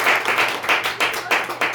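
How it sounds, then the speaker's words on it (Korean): Audience clapping after a lecture on economics at an outreach retreat near Seorak Mountain, a short burst of dense applause in a few swelling waves, fairly loud and close, with no talk over it. "자, 박수."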